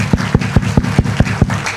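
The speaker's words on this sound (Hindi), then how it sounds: "फिर से एक बार जोरदार तालियां प्लीज" Audience applause at a motivational talk: a regular, rhythmic clapping in unison, about eight sharp claps over a couple of seconds, loud and close with a faint crowd wash beneath.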